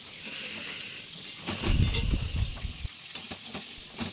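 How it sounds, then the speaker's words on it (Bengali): Prawns for a malai curry fry in a hot pan, giving a steady bright sizzle with louder bursts of crackling and stirring clatter midway, close and without talk. "চিংড়ি মাছের মালাইকারি করব সেই জন্য চিংড়ি মাছগুলো এখন ভাজছি"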